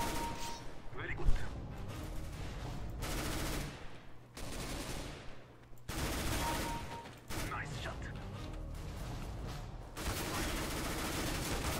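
Rapid bursts of automatic gunfire in CS:GO, loud and near, come in long stretches broken by brief pauses, with speech briefly mixed in.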